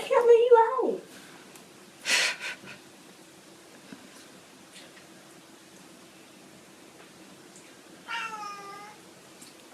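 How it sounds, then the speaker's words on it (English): An indoor pet cat meows a few times in the background, a drawn-out cry at the start and another near the end, over quiet room hiss during a live-streamed earring-making session. "Can you hear my kitty in the background?"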